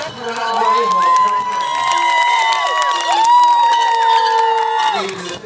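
An audience at a Thai stage event cheers and claps to welcome a singer, a loud, continuous crowd roar of whoops and applause mixed with sustained musical tones.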